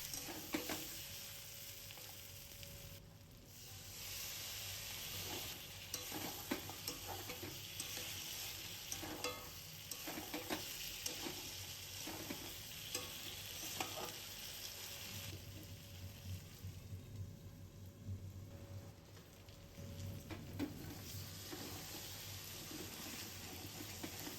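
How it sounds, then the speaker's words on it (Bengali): Mutton braising with spices in a pan for a Bengali mutton curry, giving a steady close sizzle with frequent scraping and clinking of a stirring spoon throughout. No one speaks. "মাংস কষানোর সময় অল্প জল দিতে পারেন তাতে কষানোটা ভালো হবে মশলাটা পুড়ে যাবে না"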